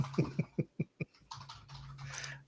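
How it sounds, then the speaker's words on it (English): A few distinct keyboard taps sound one by one in a steady rhythm, followed by a soft scratching shuffle, close and fairly quiet. "I'm typing."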